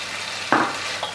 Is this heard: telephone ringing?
no